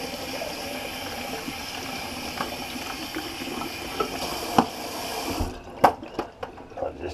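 Tap water runs steadily over a natural hair shaving brush, a close, continuous wash with a few splashes and drips near the end as the flow changes.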